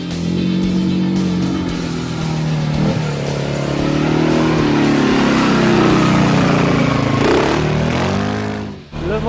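A CFMOTO CForce 520S quad with a 500 cc engine runs loud and close, its steady drone rising and falling with revs before cutting off sharply at the end, with no talk over it.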